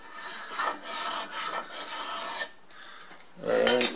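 Hand scraper rasping across a wooden surface during a woodshop repair, a run of repeated close strokes with brief pauses, then a louder, harsher burst near the end.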